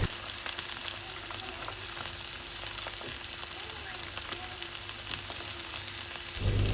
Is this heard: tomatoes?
yes